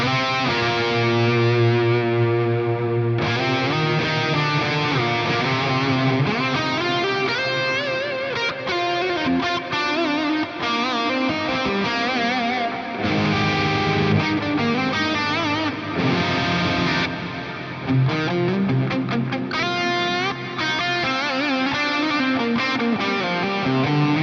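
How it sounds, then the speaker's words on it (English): An electric guitar plays through the plex delay block of a Fractal Audio FM3, with dense, smeared ambient repeats washing into each other and a sustained, distorted wall of notes continuing without pause. "this is the overall tonality of the plex delay"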